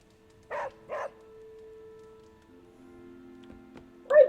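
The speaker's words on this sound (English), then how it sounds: "it's a good dog." A pet dog named Charlie gives two short barks close by, then a quiet pause with a faint tone, ending in a sharper yip or whimper.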